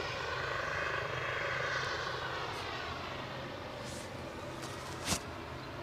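An ATR turboprop departing Aberdeen airport sends out a steady, broad engine roar that holds throughout and eases slightly in level, heard from a distance with no talking.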